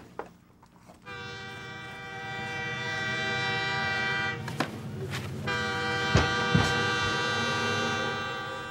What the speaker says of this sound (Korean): 또다시 들려온 기적소리.